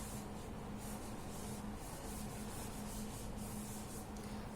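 Writing on a classroom board is rubbed out with steady back-and-forth scrubbing strokes, a continuous close brushing rasp with a faint background hum and no talking.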